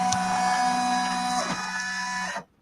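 An embroidery machine stitching an in-the-hoop project hums and whirs steadily with layered mechanical tones for over two seconds, then cuts off abruptly near the end.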